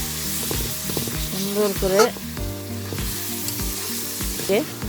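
Beef fries with potatoes in a pan for beef bhuna khichuri, sizzling and crackling loudly and close while someone talks briefly over it.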